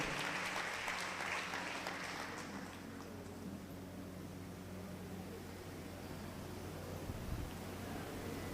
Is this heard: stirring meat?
no